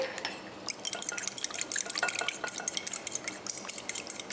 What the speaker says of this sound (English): we'll break the egg and beat it really nicely